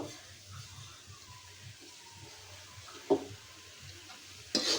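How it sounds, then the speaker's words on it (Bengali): Ground shrimp frying with coriander leaves in a pan, a low steady sizzle with a couple of sharp stirring clinks, fairly quiet and close. "তো এটার সাথে আমি কিছুটা ধনে পাতা দিয়ে আমি আগে ভাইজা নিব।"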